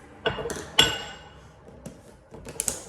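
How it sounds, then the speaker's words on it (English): Cooked rice scooped with a measuring cup, giving a few soft scraping clinks against a dish and one sharper knock, close and quiet with short pauses between. "I literally just scoop out half a cup of cooked rice"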